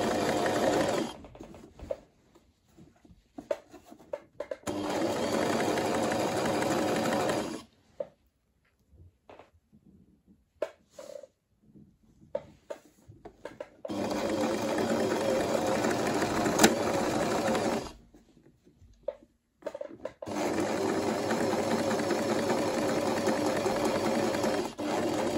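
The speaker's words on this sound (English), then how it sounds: "I'm sewing the neckline now to it." A sewing machine stitches a facing onto a gown's neckline in long steady whirring runs, stopping for quiet pauses broken by small clicks and fabric handling before it starts sewing again.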